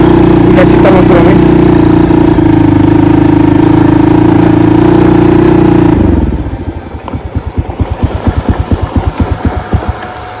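A friend's motorbike engine running loud and close at a steady idle drone, then dropping after about six seconds to a slower, uneven putter and rhythmic chug.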